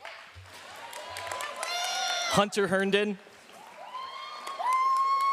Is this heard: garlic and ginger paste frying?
no